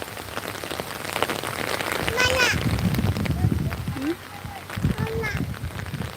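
Rain falls steadily on surfaces at Marina Park in the Andaman Islands, a constant close patter with voices talking over it throughout.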